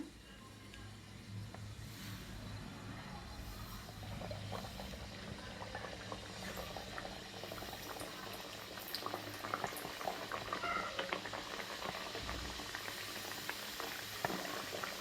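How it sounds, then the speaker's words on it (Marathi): Khaja sweet pastry deep-frying in hot oil, a continuous bubbling, crackling fizz throughout with a faint low rumble underneath and no talking. "आता आपण हा खाजा तेलामध्ये तळून घ्यायचा आहे."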